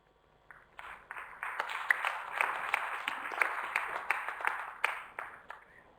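An audience at a member meeting claps for the scrutineers, the applause swelling quickly to a steady moderate roar, holding for several seconds, then tapering off.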